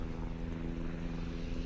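Hellcat rocket planes fly in a naval video game, giving a steady, droning propeller-engine roar that holds level the whole time with no talk.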